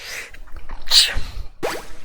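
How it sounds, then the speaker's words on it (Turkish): A single quick, light sneeze stands out near the middle, with faint shuffling noises before and after. "Kız gibi hapşırdım biliyorum"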